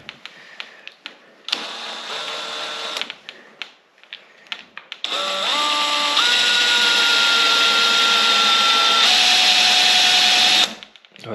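A power drill boring a hole for a Kwikset door handle, with short stop-start bursts at first, then a long sustained whine that shifts pitch under load before cutting off, close and loud.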